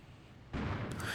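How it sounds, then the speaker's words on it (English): An A-10 gun run strike in the wartime strategy game Armored Brigade II hits as a sudden loud burst of booming, rumbling fire after a quiet lead-in, sustained to the end. "So we are going to call in one A-10 gun run there."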